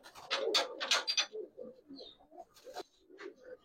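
Giribaz khaki and silver pigeons coo softly in their loft, with a few close, rising throaty calls followed by quieter murmuring coos.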